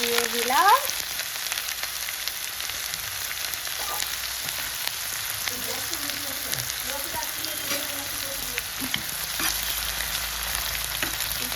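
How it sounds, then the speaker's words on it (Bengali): Onions fry in hot oil with a loud, continuous sizzle and hiss for chicken curry, a brief rising squeal at the start and occasional stirring scrapes in the pan. "তেল হয়ে গেছে এরপর দেবো পেঁয়াজ"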